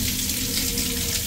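Tap water runs steadily from a faucet while a Vivo V50 phone is tested for water resistance, a close, even gushing with no talk.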